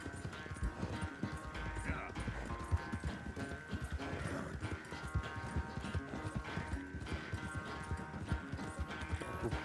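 Horse hooves gallop in Red Dead Redemption 2, a dense, steady clip-clop of a purebred mount running continuously with game music and ambience layered over it.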